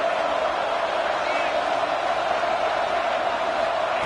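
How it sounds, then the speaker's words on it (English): A football stadium crowd at a playoff game, heard as a dense, steady roar that holds without a break and is partly covered by a commentator talking. "Listen to the crowd energy here in the early going."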